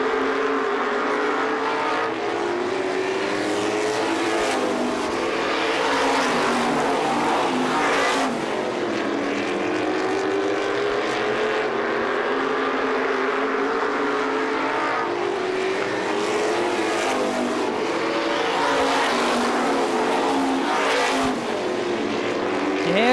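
Supermodified race cars in a 350 event at Star Speedway roar around the oval, a dense sustained engine drone rising and falling as cars pass, loud and continuous with no break.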